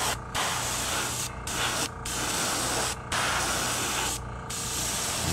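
An airbrush sprays paint onto a hand-carved lipless crankbait fishing lure in steady hissing bursts, roughly five short pauses breaking the continuous spray.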